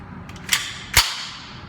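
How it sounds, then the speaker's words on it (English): An FN PS90 fires two sharp semi-automatic shots about half a second apart, preceded by faint clicks, each report crisp with a short decaying ring afterward. "let's load up a fresh mag and see how fast the semi-auto variant can fire"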